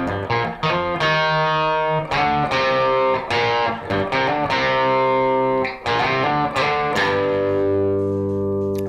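Distorted electric guitar playing a riff, loud chugging chords and sliding notes with sharp attacks in a steady rhythmic pattern, played alone without talk.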